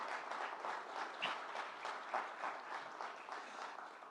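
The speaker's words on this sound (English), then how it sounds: "let's clap for him, please" Faint, distant audience applause at a medical center clinical partnership press conference, a scattered crowd clapping in an uneven, rippling patter.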